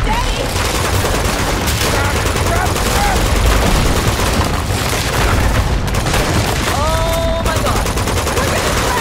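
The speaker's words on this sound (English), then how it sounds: "Shoot, Devin!" Sustained gunfire in the Uncharted 2 Remastered video game: dense, overlapping volleys of shots and booms that continue without a break, with voices shouting over the fighting.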